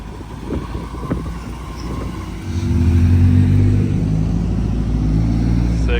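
A BMW E28 M5 drives past nearby with a low engine rumble that grows louder midway and holds steady, amid wind noise outdoors; no distinct scrape stands out.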